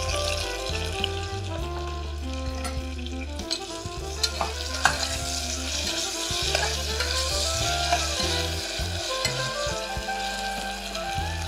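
Slit green chillies fry in hot oil while being stirred, giving a continuous busy sizzle with scraping stirs throughout, under steady background music.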